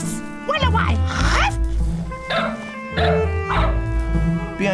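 Several dogs bark in short bursts, guarding baby birds against a cat, loud and close over a sustained musical backdrop.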